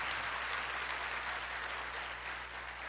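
A church congregation applauds steadily, the dense, even clapping heard at a distance and lasting throughout without a break.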